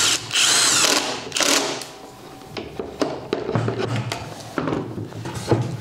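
Power drill driving screws into a rustic farmhouse-style wooden captain's bed frame with drawers, several short whirring bursts separated by clunks and handling noises, close and fairly loud, no talking.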